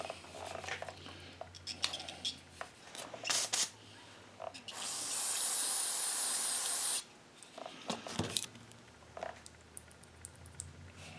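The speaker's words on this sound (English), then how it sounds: "I think we might just shoot some cleaner through this thing" Cleaner sprays from a can into a McCulloch MAC 110 chainsaw, a close, steady hiss lasting about two seconds, surrounded by clicks, handling noises and a shorter spritz earlier.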